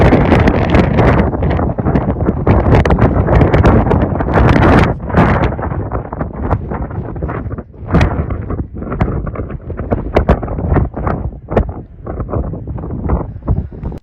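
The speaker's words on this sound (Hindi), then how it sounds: "इस मकाम पर इतनी तेज़ हवा है कि बैलेंस बरकरार रखना बहुत मुश्किल है" Strong wind sweeps across a rocky seashore, loud gusts roaring and buffeting the microphone almost nonstop, easing slightly at moments before surging again.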